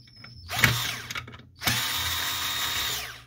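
A small powered screwdriver whirs close up in two short runs, driving out the screws on the power board cover of a Samsung CLP-365W printer.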